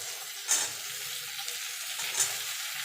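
Pumpkin pieces and bitter gourd with green chillies fry together in an oily pan, making a continuous low sizzle. Two sharp spatula clinks stand out against it.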